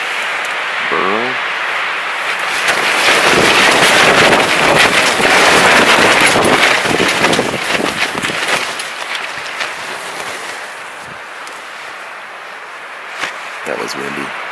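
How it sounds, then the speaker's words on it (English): Strong wind buffets the microphone at a lakeshore campsite during a chilly night of hammock camping, a loud roaring rush that swells in the middle and eases off toward the end, with a couple of faint brief knocks. "That was windy."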